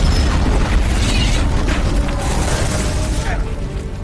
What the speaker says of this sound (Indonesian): tiba-tiba mobil Jenderal Morrison meledak